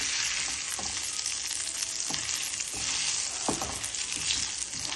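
Lentils and curry leaves crackle and sizzle steadily in hot oil for a tomato dish tempering, with occasional stirring scrapes and bright spattering bursts throughout, close and continuous with no voices.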